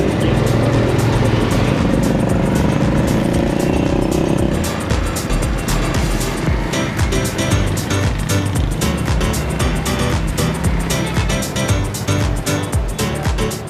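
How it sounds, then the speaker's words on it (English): Loud continuous engine roar of a motorbike pulling a cart along a road in Lahore, steady and close, with rattling vibration. "It's a motorbike connected to a cart."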